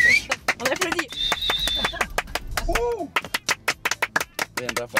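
A group at a birthday gathering breaks into scattered hand claps, loud and uneven, mixed with cheering voices, whistles and pigeon-like coos, the claps thinning into separate sharp slaps toward the end.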